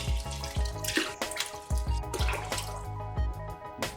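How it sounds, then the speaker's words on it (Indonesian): Clean water poured into a large basin to soak rice for sweet fermented glutinous rice, a continuous close gush and splash with sloshing pulses throughout, loud with no talking. "Rendam dengan sekitar 2 liter air bersih."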